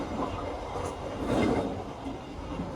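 Steady rumble and rattle of a moving passenger train heard from inside a carriage, a continuous low roar with a slight swell midway and no voices.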